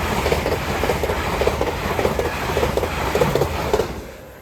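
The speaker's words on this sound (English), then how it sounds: "Next service pass through is a LNER service from Leeds to Aberdeen," LNER passenger train from Leeds to Aberdeen rushing past at a level crossing, a loud rumbling roar with rapid rhythmic clickety-clack of wheels over rail joints, fading at the end.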